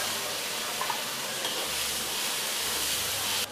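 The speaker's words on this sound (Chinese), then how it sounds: "姜蒜下锅，" Ginger and garlic hit hot oil in a wok for a Sichuan red braising base with doubanjiang, giving a steady broadband sizzle and hiss that holds for a few seconds, then cuts off abruptly near the end.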